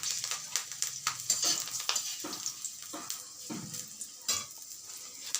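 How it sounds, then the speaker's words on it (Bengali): Slit green chillies frying in hot oil in a wok, a steady close sizzle with intermittent scraping stirs and clinks of a utensil against the pan. "3-4টে কাঁচা লঙ্কা চিড়ে"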